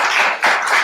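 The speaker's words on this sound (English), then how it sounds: "let's give a round of applause to our guests" An audience at a play discussion salon applauding its guests, a short burst of dense, close clapping that dips briefly midway and then continues.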